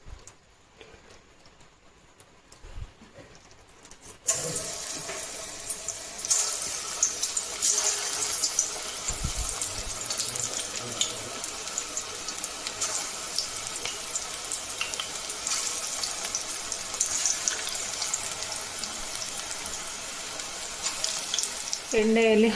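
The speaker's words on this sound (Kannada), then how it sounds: "ಇವಾಗ ಪಕೋಡನ ಎಣ್ಣೆಗೆ ಹಾಕ್ಕೊಳ್ಳೋಣ." Chagate leaf pakoda is dropped into hot oil, and after a quiet opening a steady loud sizzle and crackle of frying takes over and continues, with brief clinks and bubbling pops near the end.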